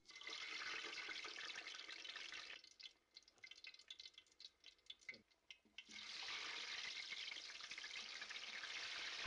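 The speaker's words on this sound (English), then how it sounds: "Fry for 7 to 8 minutes until the chips turn golden and crisp on the outside." Cassava chips fry in very hot oil with a dense, faint bubbling hiss. It thins to sparse crackles midway, then swells back to a full steady sizzle, and no voices are heard.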